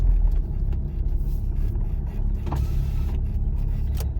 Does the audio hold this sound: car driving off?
yes